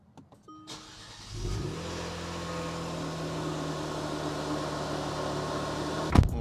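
A tuned Kia Stinger with a JB4, TCU and throttle tune starts up: faint clicks, then the engine cranks and catches and settles into a steady, close idle, with a sharp knock near the end and no talking.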